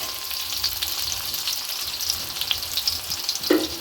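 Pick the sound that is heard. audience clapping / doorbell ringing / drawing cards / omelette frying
omelette frying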